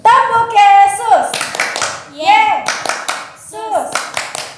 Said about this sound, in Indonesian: Sekali lagi biar kompak ya. 3, 2, 1. Tepuk Yesus.